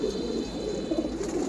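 Pigeons coo softly in a loft during the moulting season, a steady low murmur of overlapping calls throughout the short stretch with no voices.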